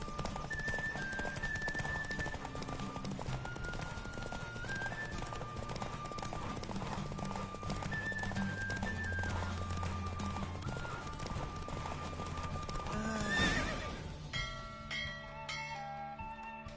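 Rapid hoofbeats of a galloping horse in a race in The Witcher 3: Wild Hunt clip-clop steadily under a busy music score, with faint bells; near the end the music swells and then drops to sparse tones.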